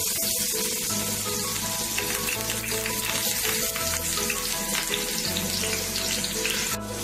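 Fish frying in hot oil in a pan gives a loud, continuous close sizzle and crackle with a steady low hum beneath, unbroken throughout.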